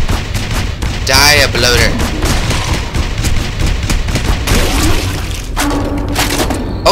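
Heavy gun from SAS Zombie Assault 4 firing in slow, booming bursts amid dense game noise and zombie sounds, loud and continuous, while someone talks excitedly over it.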